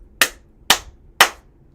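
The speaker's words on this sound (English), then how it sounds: "Them big claps." Three big, sharp hand claps ring out in an even rhythm, each loud and close with a quick decay into silence.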